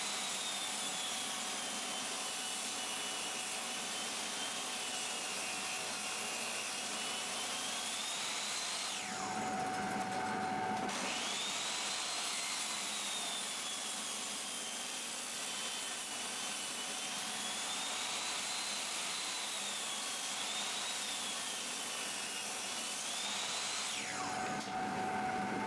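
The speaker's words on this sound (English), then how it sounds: "I transfer over to the table saw to get the other side parallel to the jointed side." A table saw rips pallet hardwood for a stool, producing a loud, continuous whining roar nearby with the pitch dipping as the blade bites, a brief change near the middle and another toward the end, with no talking.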